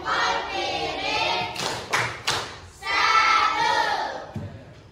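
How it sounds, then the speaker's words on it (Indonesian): A classroom of students doing a rhythmic thumbs clap, a few sharp group claps and thuds between stretches of children chanting together in unison, fairly close and lively. "Berikan dia tepuk jempol"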